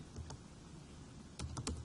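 Typing on a computer keyboard, a few sparse key taps early and then a quick close burst of clicks near the end, fairly quiet over a steady room hiss.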